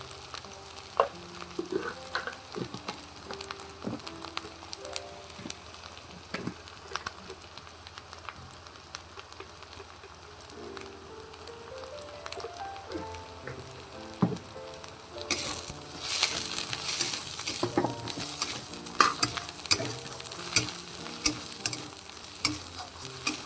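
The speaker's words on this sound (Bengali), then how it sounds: "এরপরে দেবো হলুদ গুঁড়ো আর লঙ্কা গুঁড়ো" Onion, ginger, garlic and tomato frying in a pan with turmeric and chilli powder: a steady close sizzle with stirring scrapes and light clinks, growing louder and brighter partway through, with no talking.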